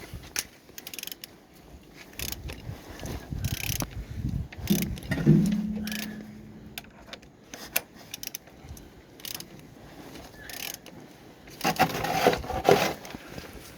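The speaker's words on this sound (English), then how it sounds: "Turning the engine" A Suzuki M13A car engine being turned over to check compression gives quiet, irregular mechanical clicks, rubs and ratcheting knocks, close up and sparse, with brief louder bursts.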